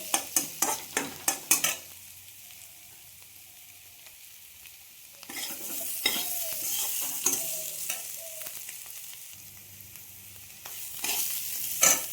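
Roasted ground spices (cumin, coriander, cloves, ajwain) fry in a pan for an egg dish. A few sharp stirring knocks come first, then a quiet pause, then a close, steady sizzle with scraping stirs and no talk.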